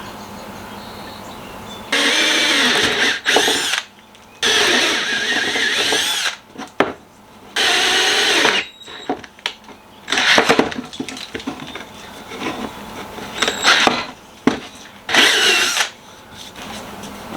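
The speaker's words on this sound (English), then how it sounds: "Now I'm going to drill a little pilot hole and put my hook in the top" A power drill bores into wood while building a simple bee trap, several loud whirring bursts of a few seconds each separated by pauses with light handling clatter.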